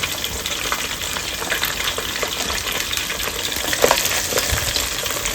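Steady, dense sizzling of chicken popcorn and nuggets frying in hot oil, a continuous crackle with occasional louder pops, close by and with no talking.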